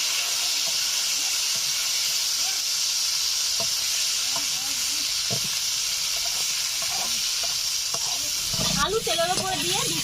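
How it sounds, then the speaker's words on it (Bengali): Black cumin seeds and potatoes sizzle steadily in hot oil in a home kitchen, a loud continuous frying hiss, with a brief stirring clatter near the end and a voice speaking intermittently underneath. "তেল গরম হয়ে গেছে, দিয়ে দিচ্ছি কালো জিরে, দিয়ে দিচ্ছি আলু"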